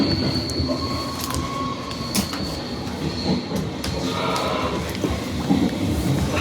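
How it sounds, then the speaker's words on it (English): A train sound effect plays at a Civil War museum exhibit in Kenosha, Wisconsin. Rolling wheels clatter steadily, with squealing wheels and sharp metallic clanks rising over the continuous rail rumble. "Train is sure full up."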